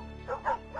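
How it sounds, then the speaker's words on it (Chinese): Dogs in a courtyard of a suburban house bark in a few short, quick bursts, fairly faint and all over within a second. "我就听到院子里面传来数不清的狗叫声"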